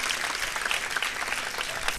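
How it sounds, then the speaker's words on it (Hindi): Loud, steady applause from an audience of guests at a Bible school graduation ceremony, dense clapping filling the whole stretch without letup. "एक बार फिर इन सबों के लिए जोरदार तालियां।"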